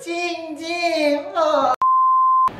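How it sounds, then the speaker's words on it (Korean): A single steady electronic phone tone sounds alone for about three-quarters of a second, loud and clean, right after a voice talking, with a short burst of speech resuming after it. "전화 왔네."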